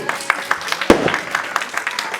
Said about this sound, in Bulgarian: Не забравяйте аплодисментите, уважаеми гости